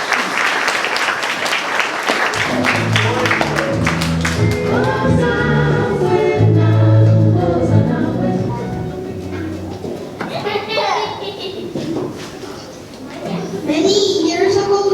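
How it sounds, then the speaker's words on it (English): A school audience applauds to open a primary-years class play, with clapping at the start, then children's voices and tonal sounds taking over, and clapping returning toward the end. "Let's give them a nice round of applause."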